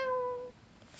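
Single short cat meow sound effect from the Scratch programming environment, a clear tonal mew that cuts off abruptly after half a second, alone with no talk.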